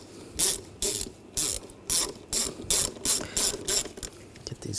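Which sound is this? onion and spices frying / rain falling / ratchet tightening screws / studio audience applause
ratchet tightening screws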